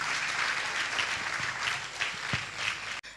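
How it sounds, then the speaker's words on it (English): Conference audience applause, a steady wash of many hands clapping at moderate distance, fairly quiet overall, ending abruptly. "My boy, I be clapping now"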